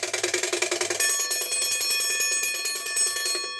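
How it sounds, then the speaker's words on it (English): A repaired antique mechanical alarm clock rings loud and close: a rapid metallic bell clatter that starts as separate strikes, then settles into a continuous bright ringing with a ticking pulse beneath, slowly fading for about three seconds. "I fixed the alarm setting on it"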